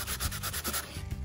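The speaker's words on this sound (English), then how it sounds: "I'm going to start sanding here on this area in here" Sandpaper rubs over chalk-painted furniture to distress it, a steady close rasping stroke repeated back and forth in quick rhythmic passes.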